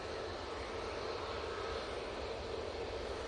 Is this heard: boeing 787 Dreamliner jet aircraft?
yes